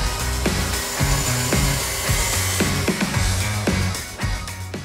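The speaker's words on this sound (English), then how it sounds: "First thing is just to cut this piece of cherry into a little block." A saw cuts steadily through a block of cherry wood, with a repeated rhythmic strokes pattern and a whining tool tone, close and loud with no talking.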